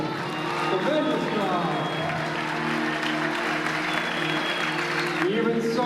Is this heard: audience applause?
yes